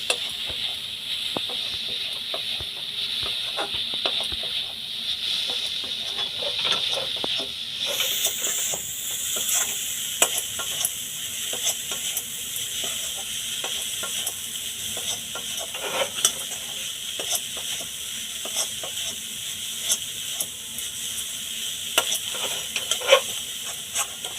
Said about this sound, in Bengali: খোয়াকির আর নারকোলটা একসঙ্গে মিক্সড করে নেব